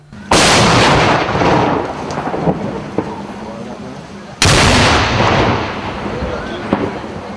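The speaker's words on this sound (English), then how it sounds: "The massive explosions you heard moments ago, that was the grenades" Two grenades detonated in disposal, massive booming blasts a few seconds apart, each a sudden loud broadband crack followed by a long rumbling, rolling tail.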